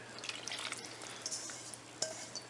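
Water, oil and yeast mixture poured into all-purpose or bread flour for Chicago-style pan pizza dough: faint, quiet dripping and liquid trickles, with a few light clicks toward the end.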